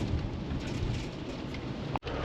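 Steady rain pours down at 50 degrees, a dense, loud hiss with low rumbling texture that continues unbroken, with only a brief dropout near the end.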